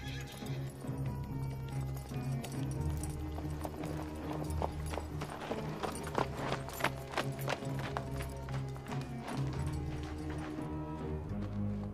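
Horse hooves clip-clop on the ground in a soundtrack scene, with whinnying and neighs over a steady music bed. The hoofbeats stay moderately close and irregular for the whole stretch.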